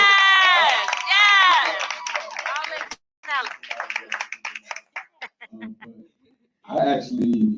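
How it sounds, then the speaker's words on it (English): Audience clapping and cheering at a live debate event, loud at first with whoops and shouts, then thinning into scattered claps with voices talking and a burst of crowd noise near the end. "So can y'all give us a round of applause?"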